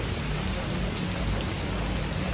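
Steady rain falls in Goa, a continuous dense hiss of drops pattering on surfaces, fairly close and even throughout with no voices.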